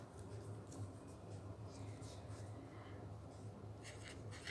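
A pen writes out a physics solution on paper, giving faint, continuous scratchy strokes close by, low in level over a steady background hum, with no clear speech.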